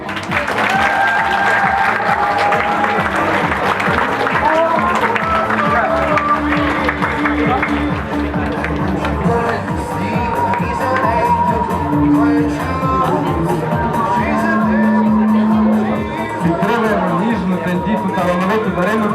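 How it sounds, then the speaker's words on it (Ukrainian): At a school beauty pageant, a crowd gives loud, sustained applause for a contestant on stage, with dense clapping and scattered cheers carrying on steadily over music for nearly twenty seconds. "Давайте оплесками привітаємо на сцені нашу енергійну спортивну Вікторію Черненко."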